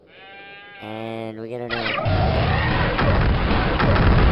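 A synthetic, buzzy 8-bit sheep bleat from a retro game, a wavering tone that gives way to loud crunchy noise, with game sounds continuing throughout.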